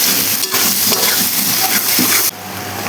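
Spices fry with boiled mutton fat in a pan, loud and close, as a spoon stirs with scraping strokes over a steady sizzle that cuts off abruptly near the end.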